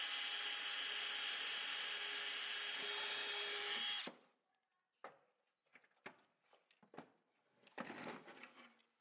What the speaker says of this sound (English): we can drill 1/8" pilot holes through the front